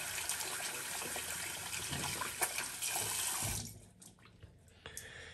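A wet natural-bristle shaving brush dripping water, with a close run of trickling and splashing drops that thins out abruptly into quieter, scattered drips near the end.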